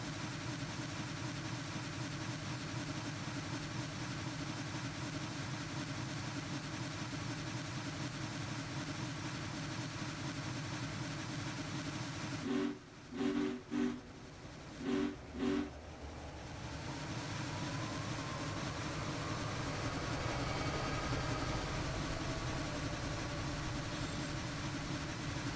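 Diesel locomotives rumble past in a train simulator game on a Sherman Hill freight route, a steady low engine drone across the whole stretch with a brief broken burst of horn-like tones midway before the rumble swells again, no voices.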